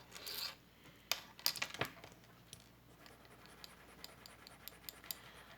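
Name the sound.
rubbing a jewelry chain to test if it is silver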